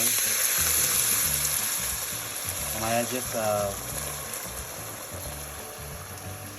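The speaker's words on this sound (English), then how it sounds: "now I'm going to start pouring my water in there real slowly" Water poured slowly into a pot of hot oil for Cambodian chicken rice porridge gives off a steady sizzle and bubbling gush. A voice talks over it throughout.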